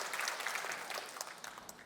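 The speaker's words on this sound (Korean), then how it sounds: "박수로 우리 하나님께 영광 올려드립니다." Church congregation applauding during a worship service, a steady, moderately distant wash of many hands clapping with no voices over it.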